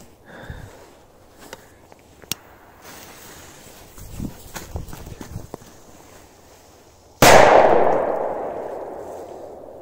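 A Red Bull firecracker goes off outdoors in a single sharp, loud blast that rings out and decays over a couple of seconds, after scattered quieter rustling and footsteps.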